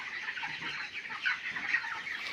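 Chickens crowded on a poultry farm, about three weeks old, a continuous chorus of overlapping peeps and soft clucks from many birds close by, steady and fairly faint, with no talk.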